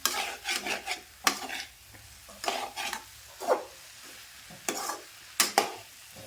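Drumsticks frying in a kadai, with bursts of spatula scraping and stirring against the metal in an irregular rhythm over a low sizzle, close and fairly loud.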